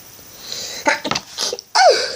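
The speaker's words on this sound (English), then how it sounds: "oh, I'm going to sneeze." A single close sneeze from a woman, a sharp inhaled build-up followed by the forceful burst, alone and fairly loud.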